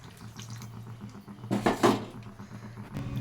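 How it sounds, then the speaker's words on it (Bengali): A little water is poured onto frying spices with fried cauliflower in a home kitchen, giving a short gushing splash with a soft sizzle around it. "আমি অল্প করে একটু জল দিয়ে দিচ্ছি।"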